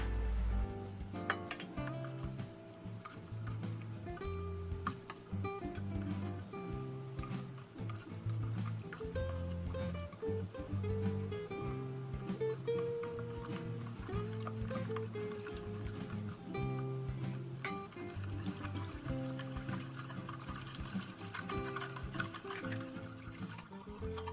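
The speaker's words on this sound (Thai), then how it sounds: "ค่อยๆเทน้ำใบเตยลงไปคนผสมทีละนิดค่ะ" Pandan water trickles into a bowl of starch, sugar, oil and coconut milk batter for khanom thian kaeo and is stirred in, a faint, steady liquid sound with occasional soft clinks.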